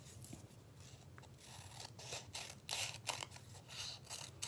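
Scissors snip and scrape through paper while trimming a piece for a mixed media bird nest collage, a string of close, crisp cuts over a steady low background hum.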